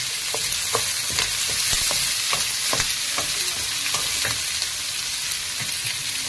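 Sliced onion and curry leaves sizzle in hot oil in a steady, loud hiss, with irregular clicks and scrapes of a spoon stirring the pan nearby.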